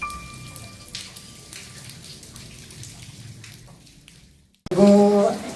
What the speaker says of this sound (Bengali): এখানে প্রচুর বৃষ্টি হচ্ছে